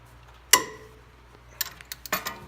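Socket extension fitted over a ratchet handle as a makeshift breaker bar: one sharp metallic clack, then a few lighter clicks and rattles of tool parts, close and quiet.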